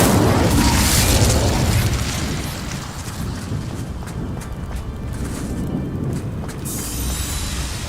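An Incendio fire spell from a wizarding game bursts with a loud, rumbling whoosh. The blast fades into a crackling, roaring fire that holds steady, with a faint hiss near the end.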